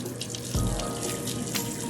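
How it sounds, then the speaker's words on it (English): Lukewarm tap water running into a sink while a face is splashed and rinsed, a steady close wash of flowing water with a few splashy surges. "we're gonna go ahead and rinse this off with lukewarm water"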